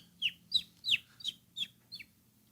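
A person imitates bird calls with their voice: six short, squeaky, clucking chirps in a loose rhythm, each sharp and close, with faint low background hum between them.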